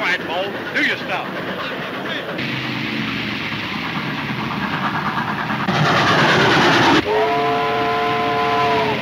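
A train runs steadily with a loud continuous rumble, and near the end a clear whistle blast sounds over it; a brief voice-like sound may appear early on.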